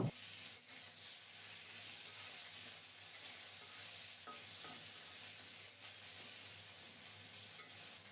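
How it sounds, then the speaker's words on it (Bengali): Flat beans are stirred into fish-frying oil tempered with whole cumin seeds, giving a faint, steady sizzle with occasional stirring scrapes and no voices. "মাছ ভাজার ওই তেলে গোটা জিরা ফোড়নে দিয়ে শিমগুলো দিয়ে দেব।"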